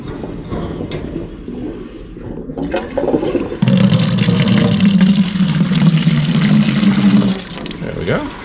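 Water gushes loudly and steadily from the dump valve of a maple syrup evaporator, flushing debris for about four seconds before cutting off. A softer stretch of talk and handling noise comes before it.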